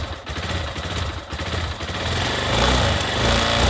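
A Suzuki DRZ motorcycle engine runs close by with a loud, steady rumble that rises and grows fuller toward the end, as if revved or warming up.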